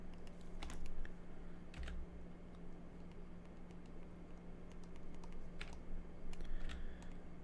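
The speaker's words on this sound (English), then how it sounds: "you're gonna hear all the clickety clacks of my keyboard" Computer keyboard keys clatter quietly off to one side while an artist works, scattered irregular clicks over a steady low hum, with no voices.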